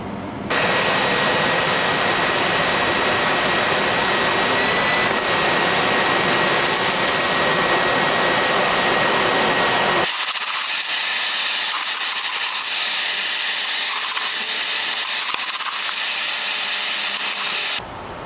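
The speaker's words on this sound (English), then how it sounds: "I'll let that burn down for a few hours to get all the zinc off the galvanized pipe." A coal-fired sword forge burns the zinc off galvanized pipe, giving a loud, continuous roaring hiss like a blower-fed fire that stays steady and close throughout, with a thinner, airier rush in the later part.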